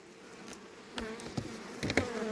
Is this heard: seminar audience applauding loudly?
no